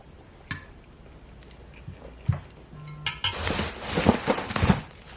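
Cutlery scraping and clinking against plates during a meal of Alfredo pasta and steak, a few scattered taps early, then a denser run of bright clinks and scrapes toward the end, close and moderately loud with no talk.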